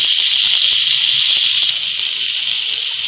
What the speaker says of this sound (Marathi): आता एक 2 ते 3 मिनिट आपण गॅस मध्यम ठेवून एक साईडनं भाजून देऊया